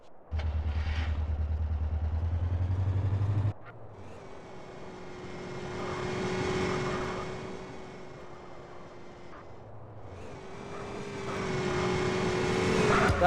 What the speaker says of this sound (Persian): دارم با موتور میان دنبالمون اسموک